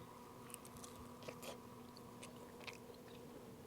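Someone bites into a slice of smoked tri-tip and chews it. A few soft, close crunchy bites and moist chewing sounds come over a faint steady background hum, with no talk.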